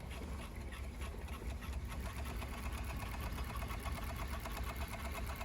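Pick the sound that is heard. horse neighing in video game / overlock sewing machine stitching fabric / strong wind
overlock sewing machine stitching fabric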